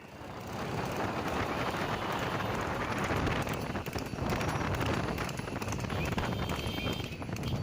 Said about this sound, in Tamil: திருக்கடையூரில் இருந்து வேப்பஞ்சேரி வரையிலான 5 கிலோமீட்டர் தொலைவிற்கு நடத்தப்பட்ட பந்தயத்தில் மாடு மற்றும் குதிரை வண்டிகள் கலந்து கொண்டன.